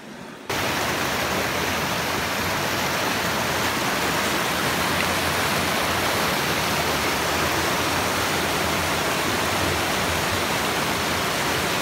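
A fast-flowing river rushes down a stepped channel in a steady, loud, broadband roar. The water sounds close and unbroken, and no voices are heard over it.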